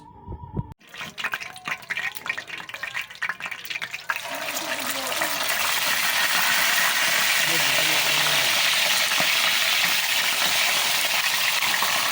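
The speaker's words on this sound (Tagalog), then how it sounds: "Piprito din natin yan mga lods." Vegetables and aromatics frying in a pan for a simple home-cooked Filipino laswa, a loud steady sizzle that swells after a few seconds of clatter and stays dense and continuous, with a voice talking early on.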